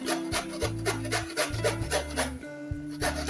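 Carrot and pumpkin are rubbed across a small hand grater in quick, evenly repeated rasping strokes, close and fairly loud, with no talk.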